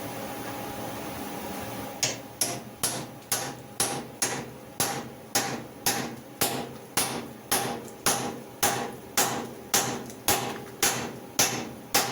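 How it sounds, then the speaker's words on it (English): A hammer strikes a stuck bolt on an Avro rear suspension in a steady, evenly spaced series of about eighteen sharp metallic whacks, close and clear over a faint background hum. "hopefully all the whacking that loosens that up a bit"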